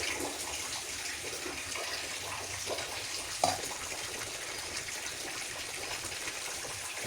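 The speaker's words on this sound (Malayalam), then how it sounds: "നമുക്ക് കുറച്ച് വെള്ളം ഒഴിച്ച് ചാലിച്ചെടുക്കാം" Water is poured into Kashmiri chili powder and turmeric powder to make a paste, a soft, steady gushing wash with one brief clink partway through, faint and close.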